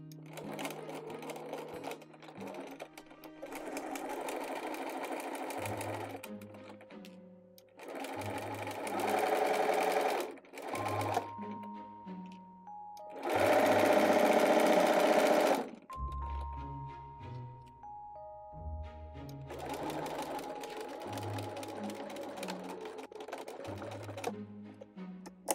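A sewing machine runs in several bursts as it stitches a seam on a Wulsthaube, a German women's headdress, with short pauses between runs and one longer, louder stretch in the middle.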